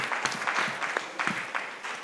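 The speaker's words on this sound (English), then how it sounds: "everybody in this room should give itself a round of applause" Applause from the audience at a first annual summit's final session, short and moderately loud, with clustered clapping bursts that rise and fall over about two seconds.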